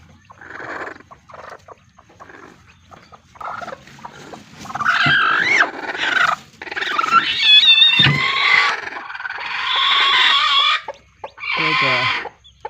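Turkey hens and chicks on a turkey farm in Darrang district, Assam, give a run of chirping, warbling calls that rise and fall, some loud and close, broken by short pauses.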